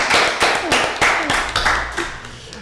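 A small group claps in the replay of a French online baking live on animal-shaped brioche buns, a few seconds of scattered, uneven claps with faint voices beneath.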